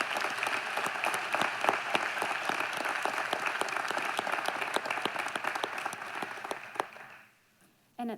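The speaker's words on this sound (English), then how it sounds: "Let's give our top 8 and our 2022 Teachers of the Year a huge round of applause" An audience at a school district teacher forum gives sustained, even applause for the Teachers of the Year, which fades away near the end before a brief sound at the close.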